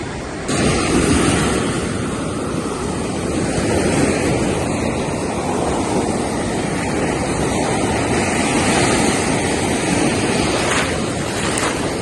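Ocean waves at Cherai Beach, Kerala, roll and wash ashore in a continuous loud roar mixed with heavy wind buffeting the microphone, with no voices.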